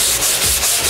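Hand sanding of a wall with 180-grit sandpaper in vertical strokes outdoors, a steady close abrasive rubbing with rhythmic stroke swells and no talk.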